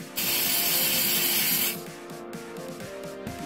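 A steady, loud aerosol hiss from a can of Onyx nail drying spray lasts about a second and a half, then cuts off, leaving a low mechanical whir and faint clicking.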